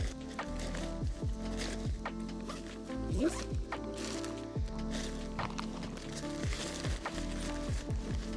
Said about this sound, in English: Get one side zipped.